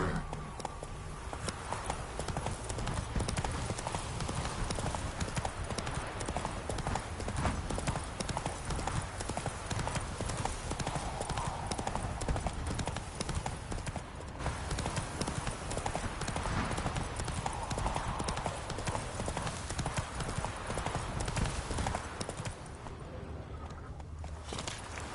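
Horse hooves gallop steadily and continuously in The Witcher 3, a dense, fast clip-clop that stays loud and close throughout, with ambient game sound layered underneath and a brief easing near the end.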